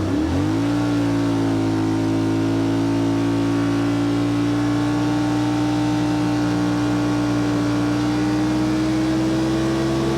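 A Yamaha RMAX 4 side-by-side revs hard while driving, its engine climbing quickly to a high, sustained whine that holds steady and loud at high RPM, close by and without speech.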